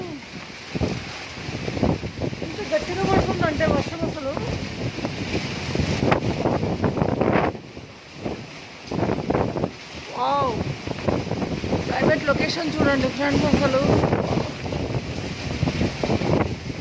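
Heavy wind and rain storm in Hyderabad, with steady gusting wind roar and rain wash running throughout, someone talking over it nearly the whole time.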